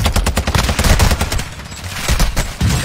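Gunfire in an online shooter video game, loud rapid bursts of automatic shots rattling close and continuously with short breaks, no talk over it.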